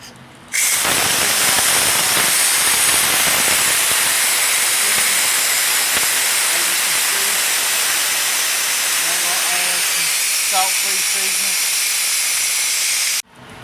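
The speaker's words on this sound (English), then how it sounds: "as you can see, the vegetables are steaming" Vegetables steam in a pan on a preheated home stove while supper cooks, giving a loud, steady broadband hiss that runs almost the whole time, with faint voice-like sounds near the end.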